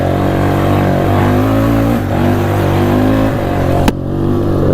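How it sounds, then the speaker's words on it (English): A 2004 Polaris Scrambler 500 4x4 ATV's single-cylinder 500cc liquid-cooled four-stroke engine runs close by with a steady throbbing drone, rising and falling slightly in pitch, with no voices. "It is a single cylinder 500 liquid cooled 4-stroke engine with a simple automatic CVT transmission."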